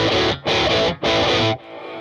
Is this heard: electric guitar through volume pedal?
yes